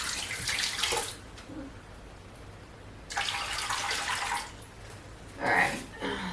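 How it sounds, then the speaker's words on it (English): Water from a pot of peeled Idaho potatoes is drained into a kitchen sink for vegetable soup, gushing in three separate splashing bursts with quieter gaps between them, close and moderately loud. "let me drain this water out."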